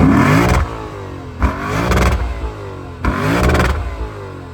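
Lexus IS 500 V8 with staggered, stacked exhaust tips revving hard three times, each blip a loud throaty rise and fall, close by with no speech.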